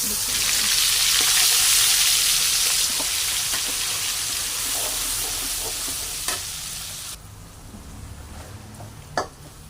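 Cloves and a black cardamom pod fry in hot oil in a pan, making a loud, continuous sizzle that slowly fades, with occasional stirring clinks near the end.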